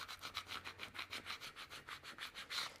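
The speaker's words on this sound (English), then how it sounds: "take our little scraper tool here, and then I'm just gonna go ahead and smooth everything out and pick up the material" A scraper tool rubs across adhesive vinyl on a transfer sheet in quick, steady back-and-forth strokes, a close, even scratchy swish repeating about five times a second with no talk.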